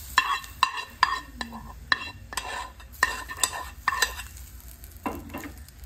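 Hot oil hisses as it is poured into a Korean potato ball mixture and stirred, with a spoon scraping and clinking against the bowl in a steady series of close strikes over a soft sizzle.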